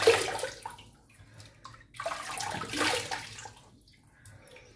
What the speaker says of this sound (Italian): Quindi mi sciacquo il viso